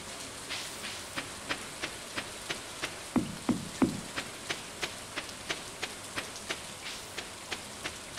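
Game rain in Stardew Valley: a steady patter of regular soft drops at an even rhythm, with a few heavier thuds midway, moderately quiet and with no voices.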